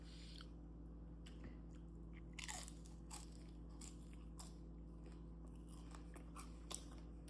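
Homemade white corn tortilla chips, a little soft, are bitten and chewed close to the mic in a run of soft crunches and squishy mouth sounds over a steady low background hum.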